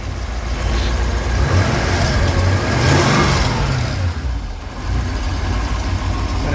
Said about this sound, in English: the issue we're having is a surging idle